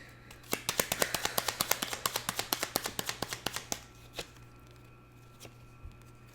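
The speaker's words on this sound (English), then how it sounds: "So let me just shuffle in again." Tarot cards are riffled and tapped close up in a quick run of about twenty sharp flicks, followed by a few scattered taps.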